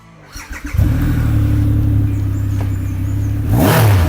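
A red 2020 Triumph Rocket 3R with a 2500cc three-cylinder engine fires up after a few stuttering cranks, then settles into a loud, close, throbbing idle before a sharp rev near the end.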